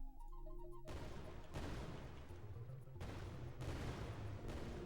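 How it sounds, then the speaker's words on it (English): Randomized game explosion effects fired from bullets in Unreal Engine, four loud booming bursts in quick succession, each with a sharp onset and rumbling tail, after a brief stretch of faint tones. "it'll either play Explosion 1 or it'll play Explosion 2. And it'll pick them at random so that when you shoot a bunch of bullets"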